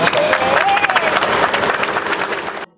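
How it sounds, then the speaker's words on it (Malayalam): Applause from an audience welcoming an arriving traveler fills the clip, a dense steady wash of clapping with a few cheers and voices mixed in, loud and continuous before cutting off abruptly at the end. "അദ്ദേഹത്തെ നിറഞ്ഞ കയ്യടികളോടെ നമുക്ക് സ്വീകരിക്കാം"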